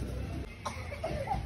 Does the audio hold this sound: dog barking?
no